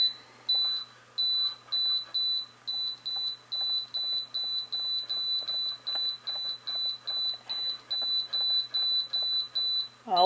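An Instant Pot's control buttons beep repeatedly as pressure and timer are set, a long run of short, evenly spaced electronic bleeps, close and clear, with no talking.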